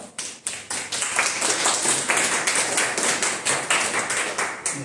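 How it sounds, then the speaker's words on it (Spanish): Applause for a doctor being introduced at a professional workshop, starting with a few scattered claps and swelling into steady clapping from a small audience close by, with no voices over it. "Un aplauso para el doctor, por favor."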